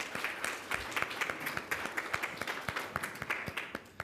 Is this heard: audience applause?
yes